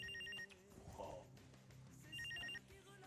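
A telephone rings in two short bursts of bright, warbling electronic trills separated by a pause, faint and mixed with quiet indoor background sound.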